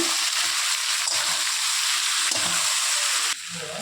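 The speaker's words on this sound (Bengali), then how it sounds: "এখন সিদ্ধ করা রাজমাটা দিয়ে দিচ্ছি, দিয়ে একটু সময় ভেজে নেব।" Boiled rajma and already-browned fried potatoes sizzling in a pan, a continuous bright hiss with occasional stirring clunks and a brief drop in level near the end.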